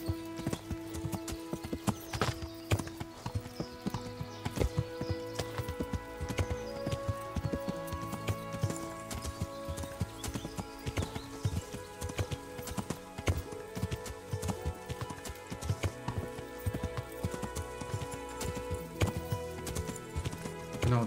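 A horse ridden at pace in Kingdom Come: Deliverance, with a steady stream of rhythmic clip-clopping hooves throughout and occasional snorts, over a layer of medieval game music.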